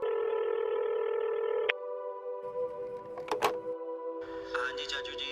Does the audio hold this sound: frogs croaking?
no